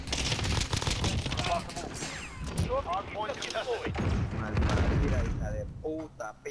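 Rapid bursts of automatic gunfire and booming shots from Call of Duty: Modern Warfare hardpoint multiplayer crackle loudly and nearly nonstop, with a voice talking over the game action.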